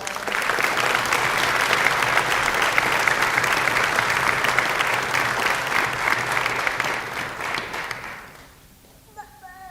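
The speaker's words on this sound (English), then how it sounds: "Let's give our seniors another round of applause." Sustained applause from a large concert audience after a symphony orchestra performance, steady and loud for several seconds before fading out quickly at the end.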